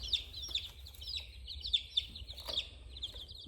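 Small chickens loose outside their coop give a steady run of high, chirpy clucks and peeps, close and soft, repeating in quick irregular bursts over a low background rumble.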